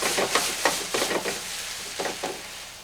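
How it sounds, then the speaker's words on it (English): Onions sautéing and reducing in a pot with a splash of stock over low heat, a soft steady sizzle broken by repeated scraping stir strokes in irregular bursts, close and moderately quiet. "Then I continue to saute and reduce it."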